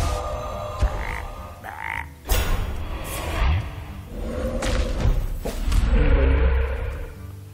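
Frog-like croaks and gurgles from Hearthstone card game effects on the Murloc side, several bursts with thuds and whooshes, loud and close over roughly seven seconds without speech.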